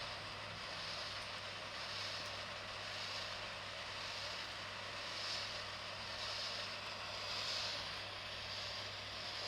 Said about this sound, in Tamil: ஓசோன் ஸ்டீம் வச்சு நான் இப்போ அவங்களுடைய ஃபுல் ஃபேஸ்க்குமே ஸ்டீம் கொடுக்குறேன்